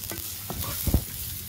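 Chopped onion frying in a pan, stirred by hand: a low steady sizzle with a couple of brief scraping strokes and one louder clunk near the end, no voices.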